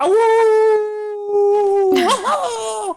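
A wolf howls loud and close in a long, steady wail with strong harmonics, pauses, then rises and wavers again over a burst of rougher noise near the end; part of a tabletop fantasy adventure set at a circus.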